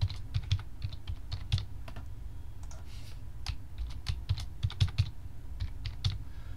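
Password entered on a computer keyboard: steady, close key clicks in an uneven typing rhythm with a few brief pauses, lasting throughout with no voices.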